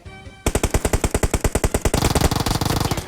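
Rapid automatic gunfire in the mobile game PUBG Mobile, a loud, steady rattle of dozens of evenly spaced shots that speeds into a denser burst near the end, with no voices.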